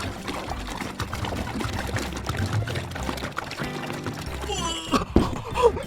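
Water poured into a container for a sink-or-float experiment, a steady splashing stream running under music and lively voices, growing briefly louder near the end.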